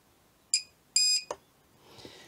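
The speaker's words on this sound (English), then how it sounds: "Then you get the long beep, which I think is just a warning beep" A supercapacitor spot welder gives a short electronic warning beep, then a longer sustained beep, followed by a sharp click and faint crackle; quiet surroundings otherwise.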